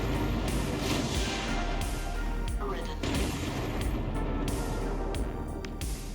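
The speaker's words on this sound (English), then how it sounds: "That's my artillery." Artillery pounds the ground in the MechWarrior Online game, a dense, continuous barrage of heavy booms and rumbling blasts rolling on without pause, loud and close throughout.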